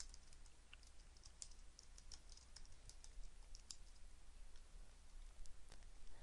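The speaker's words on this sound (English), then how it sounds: "As I type the first name and last name values" Quiet, steady typing on a computer keyboard, with soft irregular key clicks over a low constant hum and no speech.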